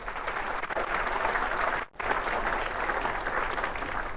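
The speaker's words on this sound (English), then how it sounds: "How about a round of applause for Pastor Hurst?" Sustained audience applause at a city's State of the City address, honoring a Lutheran pastor, a dense steady wash of clapping from a large crowd with one brief dip midway.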